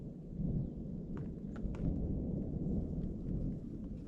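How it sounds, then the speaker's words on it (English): Low, rumbling thunder rolls on in the distance, steady and muffled, with a few faint drips or taps over it. "There's still some thunder in the area,"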